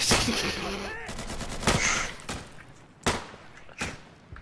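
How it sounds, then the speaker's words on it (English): Pistol gunshots in the combat video game DCS, several sharp cracks spaced apart after a stretch of voice chatter, each shot loud and abrupt with brief decay. "Damon, you wanna see how I use a fucking pistol?"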